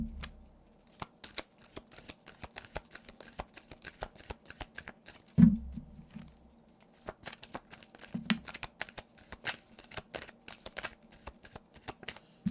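Tarot cards handled and shuffled, a dense run of crisp, close flicks and riffles with a few sharper slaps against a quiet background.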